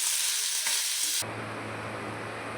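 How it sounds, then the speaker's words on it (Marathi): An onion mixture frying in oil in a pan, a loud, steady hiss that cuts off abruptly and gives way to a quieter background hum, close up, with no voices. "यामध्ये आपण थोडं तेल टाकून घेऊया आणि नीट लाल होईपर्यंत आपण याला नीट भाजून घेऊया"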